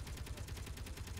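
Rapid automatic gunfire rattles in the video game Space Engineers during a base siege, a quiet, evenly spaced stream of shots with no pause.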